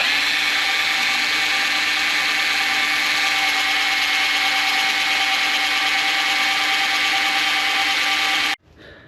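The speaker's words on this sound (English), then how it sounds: "let's drill the side off" A power drill bores steadily through a salvaged GT86 car part, a loud, continuous high-pitched whine held for about eight and a half seconds before cutting off abruptly.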